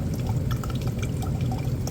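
Steady rushing flow of water through a humidifier solenoid valve and its pipe, continuous and close with a slight trickling texture, no voices.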